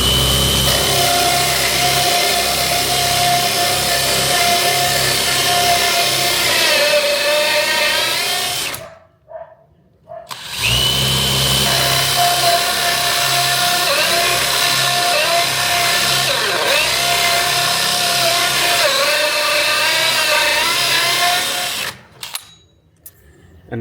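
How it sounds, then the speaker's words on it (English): A power drill fitted with a 2-inch hole saw bores into sauna wood with a loud, sustained whirring grind, stopping briefly midway before resuming and then cutting off near the end. "It's a 2-inch hole saw. Just make your marks and then drill almost all the way through."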